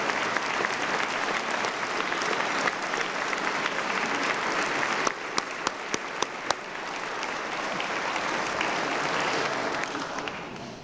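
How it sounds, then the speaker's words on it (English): A standing audience at the West Virginia State of the State address gives a long, sustained round of applause, with a few sharper individual claps standing out partway through. "let's give them a great big round of applause"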